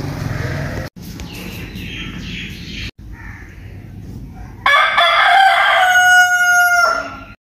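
Chickens murmur and cluck in the background, then a rooster crows loudly and close by, a long drawn-out call.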